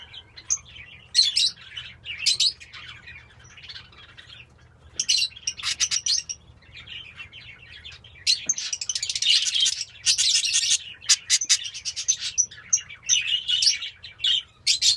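Young chicks bred from a lutino and painted bird pairing chirp and squawk in bright, rapid bursts, busy and close, with short pauses between flurries and a low steady hum underneath; no one speaks.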